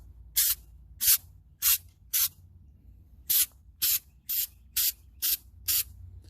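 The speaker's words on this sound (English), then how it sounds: "this stuff comes out very thick. You can see there that first blast, it really put out a lot of product." Rust-Oleum spray bed liner hissing from an aerosol can onto a side-by-side UTV in about ten short, loud bursts separated by brief pauses.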